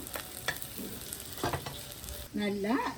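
Fenugreek seeds fry in hot oil for a Jaffna-style tin fish curry, a close, steady sizzle broken by a few sharp stirring scrapes and clinks of the spoon.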